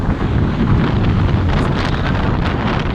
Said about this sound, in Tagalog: Kusog kayong hangin pero init.